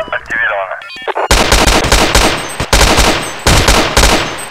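Rapid gunfire bursts ring out in Counter-Strike 1.6 after a brief electronic game sound, loud sharp automatic volleys with short pauses between them.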